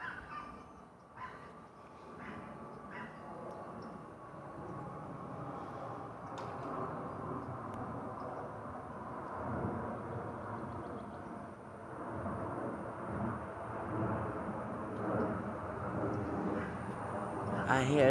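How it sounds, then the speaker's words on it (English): A jet aircraft passes overhead as a steady, distant broadband roar that slowly swells, with faint background voices. "I hear the plane. It's right overhead."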